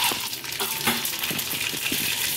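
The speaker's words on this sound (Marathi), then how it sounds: "तेल तापलेलं आहे, 2 पळी तेल घेतलंय आम्ही। त्याच्यामध्ये जिरे मोहरी टाकायचे" Cumin and mustard seeds crackle and sizzle in two ladles of hot oil for a masala okra tempering, a dense continuous frying hiss with small popping bursts, close and fairly loud.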